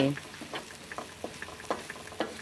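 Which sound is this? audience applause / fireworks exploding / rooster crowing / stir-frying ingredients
stir-frying ingredients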